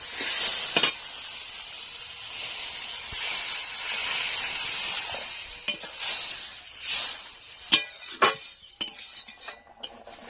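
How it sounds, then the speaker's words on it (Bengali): Water poured into a pan of mola fish curry sets off a steady, loud sizzling hiss, with scattered metal clinks and scrapes of a spoon against the pan growing busier toward the end. "এবার আমি সম্পূর্ণ জলটা এবার তরকারিতে দিয়ে দেবো"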